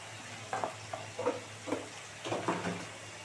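Kashmiri red chilli and ground coriander sauté in a pan under a soft, steady sizzle, broken by several short scraping stirs at an uneven pace, close and fairly quiet.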